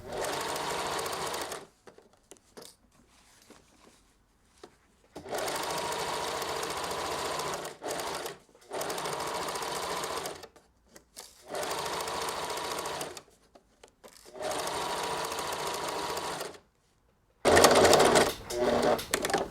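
A sewing machine stitching the front lining of a Paris bolero runs in several close, steady bursts of rapid needle chatter, separated by brief quiet pauses, with no talking.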